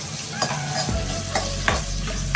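Chopped onion fries in hot oil after mustard seeds have popped, giving a steady close sizzle with a few scraping stirs of a spoon against the pan and no voices.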